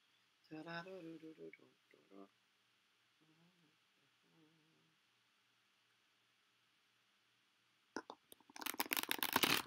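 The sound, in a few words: playing cards being shuffled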